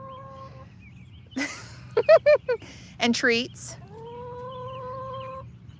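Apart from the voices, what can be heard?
hens clucking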